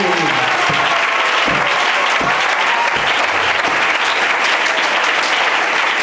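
A church congregation applauding, loud sustained clapping filling the space evenly from start to finish.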